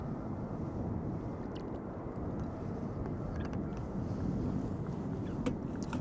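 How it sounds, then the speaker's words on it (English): An EasyJet Airbus A320neo airliner bound for Copenhagen at Schiphol Airport, heard as a steady, broad low roar from a distance, constant throughout with a wind-like rumble and no voices. "in the foreground we saw the A320neo to Copenhagen from EasyJet"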